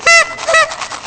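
A person imitates a Canada goose with two loud, nasal honks close together near the start, followed by a few softer, trailing honking calls.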